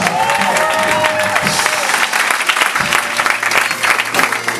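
Church congregation applauding during a worship service, dense steady clapping with some crowd noise and a sustained musical tone underneath, filling the whole stretch.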